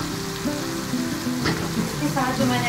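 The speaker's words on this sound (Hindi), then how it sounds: "तो अब हम इसमें अपने सारे मसाले डालेंगे। एक चम्मच हल्दी का," Spices, turmeric among them, hit onions frying for fish karahi and give a moderate, continuous sizzle with a few faint tonal sounds mixed in.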